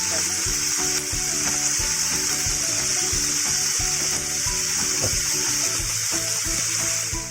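Kangkong leaves frying in hot oil until crispy and golden brown, a constant loud hissing sizzle with faint crackles, steady and close throughout.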